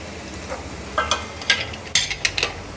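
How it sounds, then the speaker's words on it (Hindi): Chopped onion frying on a low to medium flame, a soft sizzle broken by several bursts of stirring and scraping in the pan, close and fairly loud, no talking. "आप देख सकते हैं प्याज हमारे फ्राई होने शुरू हो चुके हैं।"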